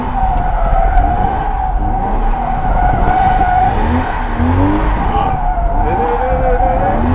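A drifting car screams through a drift session, its tires skidding in a long squeal while the engine revs loudly and rises and falls in pitch, close and continuous, with voices talking underneath.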